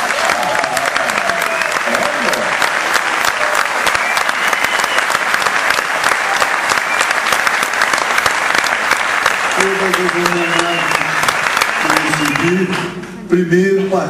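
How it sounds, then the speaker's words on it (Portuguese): Sustained audience applause fills a Brazilian music talk event in São Paulo, with dense steady clapping throughout, a few voices and tonal sounds surfacing toward the end as it fades briefly. "Vamos ver, vamos aplaudir, né?"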